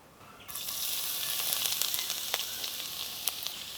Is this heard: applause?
no